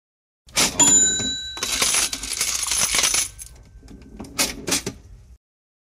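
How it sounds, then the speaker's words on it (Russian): A cash register sound effect: a bright mechanical ring and drawer clatter, followed by a jingling cascade of dropping coins and a few scattered metallic clinks tapering off, loud and close with no talk. "Деньги платить, касса."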